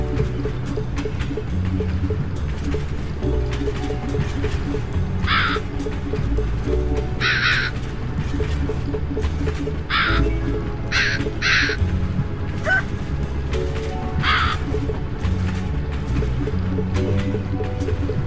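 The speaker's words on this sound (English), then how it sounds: "Have you noticed all these crows around the place?" Crows in the video game A Hat in Time give short cawing calls in scattered bursts, about six or seven over the stretch, set against continuous loud game music.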